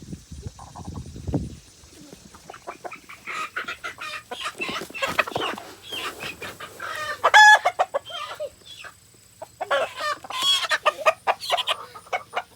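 Chickens cluck and a rooster crows among the flock, with scattered squawks and a few brief voices nearby.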